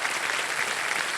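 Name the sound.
studio audience applause for contestant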